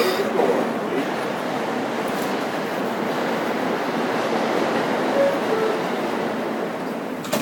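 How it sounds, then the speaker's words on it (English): Steady rumble and roar of a World Trade Center-bound New York City subway E train in motion, filling the whole stretch at a constant close level with faint tonal squeals now and then. "This is a World Trade Center bound E train."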